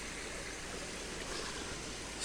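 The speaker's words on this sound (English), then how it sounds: "This creek is spring fed. It's got pure clean water and it runs all year" A small spring-fed freshwater creek runs steadily in a tropical food-forest garden, giving a continuous close broadband rush and trickle of flowing water with no voices.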